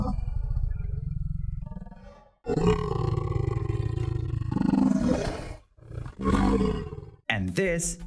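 AI-generated lion attack roar made for a rising monster: a long, loud, guttural roar lasting several seconds, then shorter growling bursts and a final sharp snarl, heard alone.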